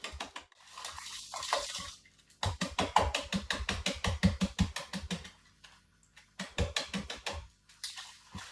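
Powdered chocolate is mixed into a batter in a bowl with rapid, rhythmic scraping and tapping strokes, played in two bursts with a pause between them.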